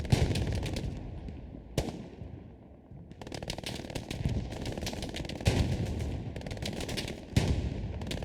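Machine-gun fire from a World War II battle in Hell Let Loose comes in rapid, sustained bursts of loud rattling shots, with brief pauses and occasional heavier single blasts among them.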